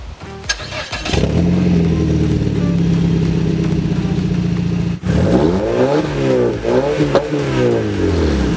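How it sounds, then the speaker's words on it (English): A car's straight-pipe exhaust with a muffler delete and stock-diameter pipe roars loudly as it revs, opening with a quick startup burst, then holding steady before a brief pause and a series of rising and falling revs close by. "for her exhaust, she just has a straight pipe"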